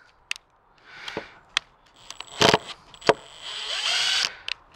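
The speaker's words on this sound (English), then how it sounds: "if I get my trusty driver, those can be removed, screwed back in" A power driver whirring in short bursts as it removes and drives fasteners back in, with sharp clicks and clacks between the runs, heard close with no talking.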